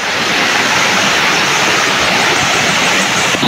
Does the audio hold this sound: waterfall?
yes